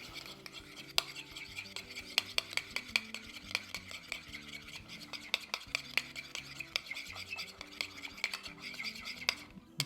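A sauce mixture made with mayonnaise being stirred in a bowl for smoked pulled pork sliders, a quick run of close, soft ticking scrapes and clinks in a steady rhythm.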